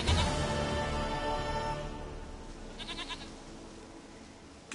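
A goat in a video game bleats in a long, wavering cry that fades out, followed by a softer clatter of ambient game sound, with no talk.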